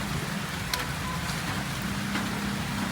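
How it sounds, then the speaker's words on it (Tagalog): Steady outdoor rainfall makes a continuous soft hiss with faint scattered drops, at an even level throughout and with no voices. "Umuulan po rito sa amin ngayon."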